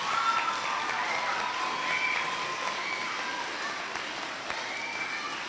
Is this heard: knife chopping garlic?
no